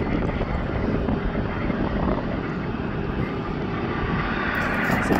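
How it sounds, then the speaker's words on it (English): A firefighting plane drones overhead in a steady, loud, broadband engine roar that holds constant throughout, with no talk over it. "There's a plane over here"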